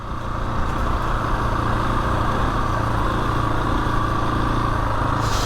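A Husqvarna 701 motorcycle engine runs in off-road mode on a winter green lane, a loud, steady, continuous rumble that holds an even level throughout with no talking.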